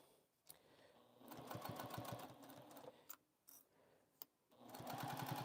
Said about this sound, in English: I'm still stitching 1/4 inch seam or so